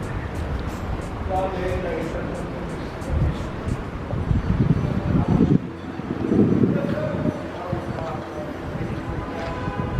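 Wind gusts outdoors in Rotterdam on a sunless, cool day, buffeting the microphone in a steady rumbling rush that swells midway, while people talk over it.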